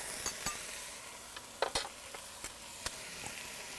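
Short ribs and onions braise in a pot with a faint low sizzle while a utensil stirs them in a few sparse scrapes and clinks, quiet and close.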